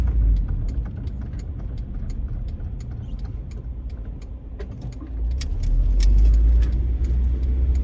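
A car drives through city streets in Philadelphia's Fairhill neighborhood, its steady engine and road rumble heard from inside with rapid ticking of a turn signal, the engine swelling louder near the end as it accelerates, no talking.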